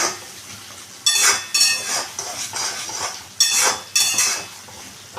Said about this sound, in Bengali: টমেটো এখানে দিয়ে দিচ্ছি একটু মিশিয়ে নিয়ে